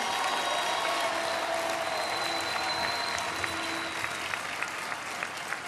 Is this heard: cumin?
no